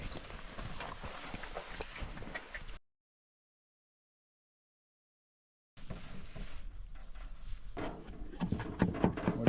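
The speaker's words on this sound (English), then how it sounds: "What are you up to there, horse?" Horse hooves clip-clop at a walking pace on a farm, a steady nearby rhythm that breaks off into a few seconds of silence before resuming, growing slightly louder toward the end.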